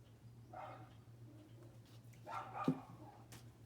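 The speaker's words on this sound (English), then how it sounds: "incessant barking going on in the background" A dog barks faintly in the distance from inside a garage, a couple of muffled yips over a low steady hum, no voices nearby.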